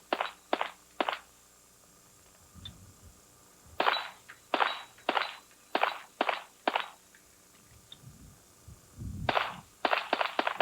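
Rapid gunshots ring out in quick bursts at a 1994 sportsman's team precision shooting event, with sharp reports in clusters separated by pauses and a few fainter metallic clangs of hit targets.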